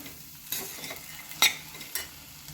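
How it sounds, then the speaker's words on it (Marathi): Sprouted mung beans being stirred and sautéed in masala in a pan, with a soft sizzle and a few sharp spoon scrapes and taps, close and alone. "यामध्ये आता मी मूग घालून घेते मूग हे छान परतून घ्यायचे आहे"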